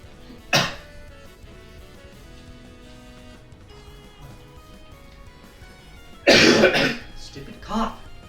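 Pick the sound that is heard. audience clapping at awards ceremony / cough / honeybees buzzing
cough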